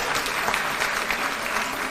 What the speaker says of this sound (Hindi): एक बार जोरदार ताली बजा दीजिए सब लोगों के लिए